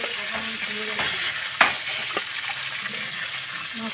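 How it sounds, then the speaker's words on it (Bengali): Fish stirred while frying in a home kitchen pan, a steady soft sizzle with a few light scraping clicks from the stirring, close and without talk. "মাছটা এইভাবে নাড়াচাড়া করে মাছটা সুন্দর করে নাড়াচাড়া করে নিতেছি"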